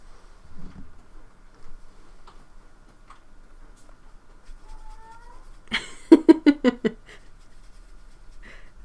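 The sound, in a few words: cat making sounds in the background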